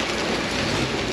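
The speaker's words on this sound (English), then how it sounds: "It's absolutely pummeling rain" Heavy, pummeling rain heard from inside a bus travelling in Turkey: a dense, steady roar of broadband noise with no breaks and no speech.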